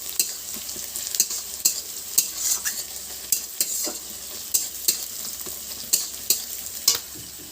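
Meat being sautéed with spices in a pot, with a steady sizzle and repeated scraping clinks of a spoon stirring against the metal at a regular rhythm, close and fairly loud.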